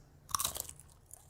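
Cheez-It Grooves crackers are crunched in a quick burst of several crisp, close bites, followed by a faint final crunch in an otherwise quiet space.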